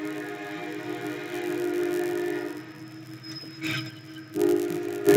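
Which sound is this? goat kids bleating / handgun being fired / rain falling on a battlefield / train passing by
train passing by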